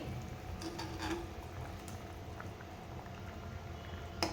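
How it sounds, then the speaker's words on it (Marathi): Fish curry made with rawas fish bubbling in a pot at home, quiet soft bubbling and gurgling with a few small pops and a brief clink near the end, heard up close. "कालवणाला छान उकळ आलेली आहे."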